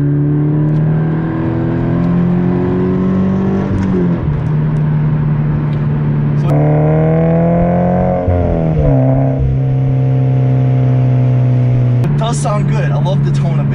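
Subaru BRZ fitted with an Invidia N1 exhaust cruising in third gear around 40 mph, a low droning engine note rising and dropping with throttle and shifts, loud and steady from inside the car.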